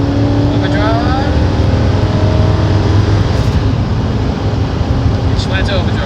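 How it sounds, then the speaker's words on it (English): A Ford truck with a 4R75E automatic transmission drives along as it shifts into overdrive, its engine and road noise a loud, steady drone with a slight change in pitch, while people talk over it inside the cab. "It just went to overdrive. No, now it went in overdrive."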